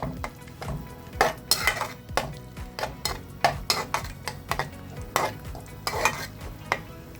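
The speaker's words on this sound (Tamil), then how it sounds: "நல்லா தயிர் வந்து சாந்து கூட போய் நல்லா கிண்டி வரணும்" Curd masala stirred in a frying pan: a spoon scrapes in a brisk, regular rhythm of about two strokes a second, each stroke close and distinct over a soft sizzle, with no talking.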